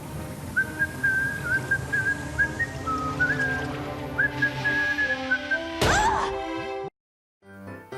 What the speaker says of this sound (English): Here's a listen to Nicholas whistling Jingle Bells to pop the bubble.